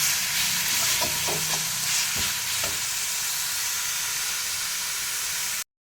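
Thoothuvalai leaves sauté in oil in a kadai. A continuous frying sizzle plays alongside a few clinks of a stirring spoon early on, then the sound cuts off abruptly just before the end.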